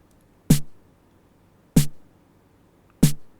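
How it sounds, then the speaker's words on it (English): Three evenly spaced hits of a body-layer snare drum sample in Logic Pro, each a short punchy crack with a quick decay, dry and alone with silence between. "This one's a body snare."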